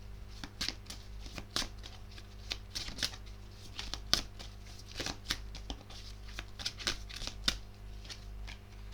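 Tarot cards being shuffled by hand, a quiet, uneven stream of soft riffling snaps and flicks close by, with no talking.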